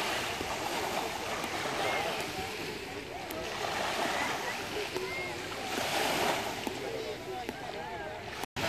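Sea surf at a beach in Cannes on the Riviera, a steady broad wash of waves with gentle swells, heard close and continuous with faint talk mixed in.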